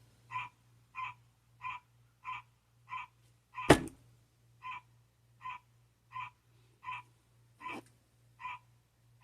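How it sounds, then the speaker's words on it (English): A tree frog calls just outside a trailer in a steady, evenly spaced series of short chirping notes, repeating about every half second, with one loud click partway through. "That's a tree frog."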